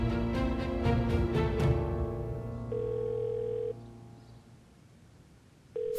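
A telephone rings in repeated electronic trills, then falls silent, leaving a long steady tone before another tone cuts back in; no one answers.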